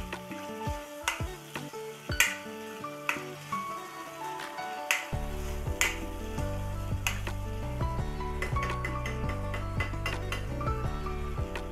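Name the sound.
stirring mutton masala in a pan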